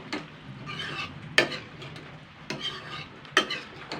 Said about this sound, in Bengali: জলটা দিয়ে হালকা নাড়াচাড়া করে নেবো